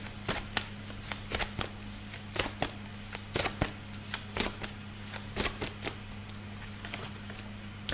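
A deck of tarot cards being shuffled close up, with a quiet run of sharp riffling snaps and flicks coming in irregular bursts over a faint steady hum.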